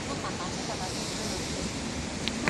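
Sea waves wash onto the shore on a day trip to Beihai, a broad, steady rush of surf mixed with wind buffeting the microphone, with a faint brief sound near the end.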